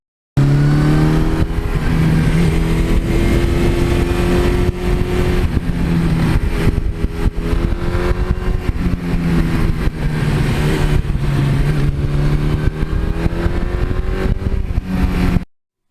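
A 1982 Suzuki GS1100E motorcycle engine, stock-tuned and fitted with a 1986 exhaust system, runs steadily and loudly throughout with a strong, even drone and slight rises in pitch, heard alone without talk.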